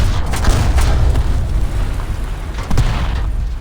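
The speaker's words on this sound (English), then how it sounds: "Oh, artillery." Heavy artillery blasts in the tank game War Thunder Mobile, deep rumbling booms with sharp cracks near the start and again later, loud over a constant low engine drone.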